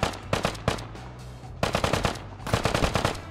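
Bursts of rapid automatic gunfire in a survival video game, three clusters of sharp shots separated by short gaps, moderately loud with no talking over them.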